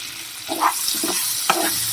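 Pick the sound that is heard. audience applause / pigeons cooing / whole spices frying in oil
whole spices frying in oil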